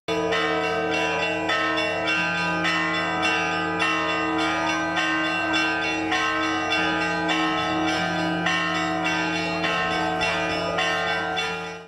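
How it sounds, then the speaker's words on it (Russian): Church bells peal continuously before an Orthodox Easter procession in Sevastopol, a dense, loud wash of overlapping strikes and ringing tones with no voices. "О начале торжественного шествия оповещают церковные колокола."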